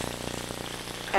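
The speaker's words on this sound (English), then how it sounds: "I'm just taking link sausage, cooking it, frying it up" Link sausages fry in a pan, giving a steady close crackling sizzle through the short stretch, with a brighter louder burst right at the end.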